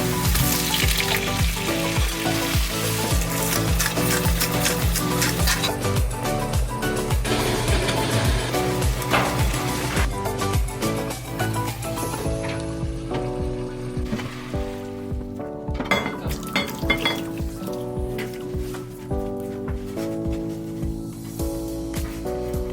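Shrimp sizzling and being stirred in garlic-infused olive oil for gambas al ajillo at a home kitchen, a loud continuous crackling fry with clattering utensil scrapes throughout, close up and without talk.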